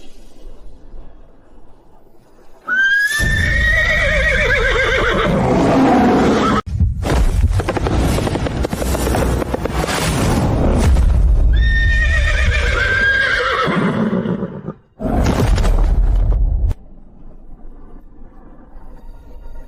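A prized Fergana steed whinnies loudly and close in two long, shrill neighs separated by heavy rumbling snorts and hoof stamping, with a few sharp breaks between bursts.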